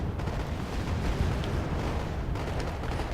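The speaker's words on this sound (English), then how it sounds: "constant bloody artillery fire from both players" Constant artillery fire rumbles in the Wargame: AirLand Battle video game, a dense continuous roar of distant blasts and booms with no pauses.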